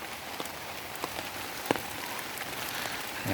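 Steady rain patters on a surface during a stink bean harvest, with scattered louder drops tapping irregularly throughout; no voices.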